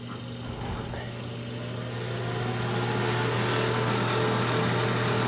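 The blower on a wood-burning fireplace insert runs on high, a steady droning hum with a rattly buzz that grows slightly louder over the stretch, heard up close without speech.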